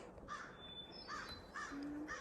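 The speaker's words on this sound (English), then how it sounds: "There's a crow saying hello to you and good morning." An American crow caws repeatedly at a bog boardwalk in a Maine city forest, three or four harsh calls in a steady rhythm, clear and moderately near over quiet outdoor ambience.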